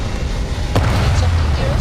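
A spaceship lifts off in the video game Starfield with a loud, steady, deep engine roar and a brief sharper burst partway through.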